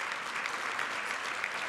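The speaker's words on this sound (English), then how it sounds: "you can give her many rounds of applause" Steady, dense crowd applause at an MLK commemorative program honoring Wilma Webb, a continuous even wash of many hands clapping throughout the brief moment.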